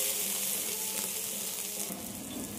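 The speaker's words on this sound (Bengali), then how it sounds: "পেঁয়াজ আদা রসুন আলুর সঙ্গে খুব ভালো করে ভেজে নিতে হবে।" Onion, ginger, garlic and potatoes frying in a pan for a cabbage dish, a soft steady sizzle with a faint stir partway through, close and fairly quiet.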